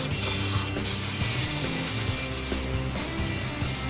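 Brake cleaner sprayed onto a Chevrolet Silverado brake line during brake and rotor work: a continuous aerosol hiss, loud and close, with short breaks and faint mechanical knocks.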